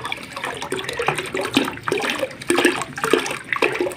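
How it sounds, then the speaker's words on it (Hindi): Aquarium water drains through a pipe during tank cleaning, a close, gurgling rush of water that surges in uneven bursts. "पाइप लगा के पानी निकाल रहे हैं।"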